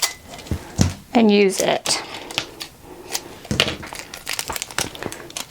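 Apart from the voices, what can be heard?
tape being pulled and applied over infusible ink mug sheet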